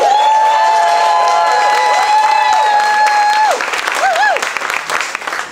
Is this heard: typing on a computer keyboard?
no